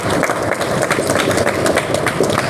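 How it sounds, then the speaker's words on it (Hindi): An audience at a sugarcane product training session clapping loudly, a dense continuous burst of many hands applauding together, close and energetic throughout. "आप सभी के लिए एक जोरदार ताली बजाओ"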